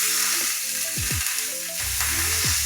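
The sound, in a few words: 85/15 ground beef sizzling on a griddle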